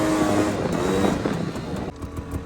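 A 1990 Honda Pilot drifting through a turn, its engine droning loudly with a shifting pitch alongside wind and road noise, then easing off briefly near the end.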